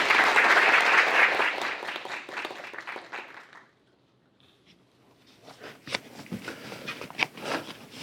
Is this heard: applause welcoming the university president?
yes